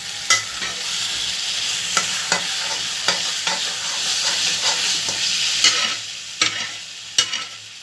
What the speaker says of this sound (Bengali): এখন কচুটা আমি নাড়াচাড়া দিব।